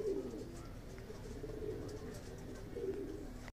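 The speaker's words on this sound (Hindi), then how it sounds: "ये रहा कबूतर" A white domestic pigeon coos softly outdoors as it lands, giving two low rolling coos a few seconds apart over faint background noise.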